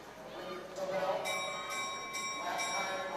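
A bell rings out over a long-track speed skating race, signalling the last lap at the US Long Track Championships; several sustained, ringing strikes repeat through the clip over a steady arena crowd and announcer murmur.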